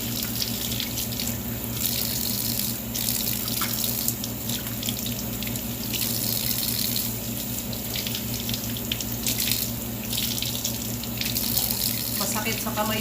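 Steady running hot water from a tap splashes continuously into a sink while fish is washed, with faint handling noises and occasional splashes throughout.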